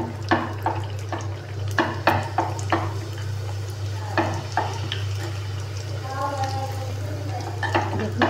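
Fuchka puris fry and puff up in hot oil with a soft, steady sizzle, broken by sharp intermittent clinks and scrapes of a utensil against the pan and a constant low hum underneath.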